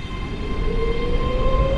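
A Class 385 electric train in London Overground livery runs in Train Sim World 4, giving a steady rumbling rail drone with a faint rising whine, continuous and fairly loud, with no talking.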